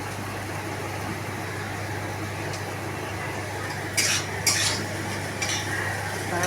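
A steady sizzle of onions frying in a pan, with a few sharp scrapes and clinks of a utensil stirring near the end.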